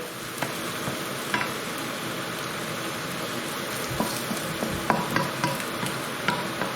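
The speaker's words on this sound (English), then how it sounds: "As you can see now that onions are really starting to come into their own now, melting down nicely." Onions fry in a pan for a BIR chicken rogan josh, a steady dense sizzle with repeated scraping stir strokes and small clicks of the spoon against the pan, close and continuous with no talk.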